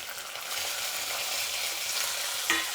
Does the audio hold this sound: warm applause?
no